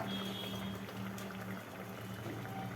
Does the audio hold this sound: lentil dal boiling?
yes